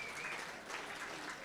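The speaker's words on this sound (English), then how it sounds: "Please, all of you, give them all a round of applause" Gala audience at a service dogs charity event giving a round of applause, a brief, faint wash of dense clapping heard at a distance.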